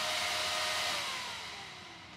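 Cooling fan of an Iceriver KS0 Ultra ASIC miner winding down after being unplugged, a loud broadband whoosh whose pitch slowly drops and fades over two seconds, with no talking.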